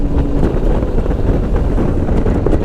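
Wind blowing hard across a microphone outdoors in Vytina, a steady, loud buffeting roar with gusty low rumble and no talk.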